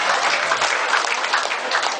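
An audience at a company business presentation in Cebu bursts into steady, dense applause, loud and sustained for the full two seconds without pause.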